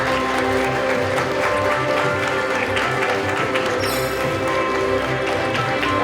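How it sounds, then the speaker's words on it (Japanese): Loud, sustained applause from an audience welcoming guests at an awards ceremony, steady dense clapping with a low rhythmic thump underneath and a little crowd noise. "それでは皆さん盛大な拍手でお迎えください。"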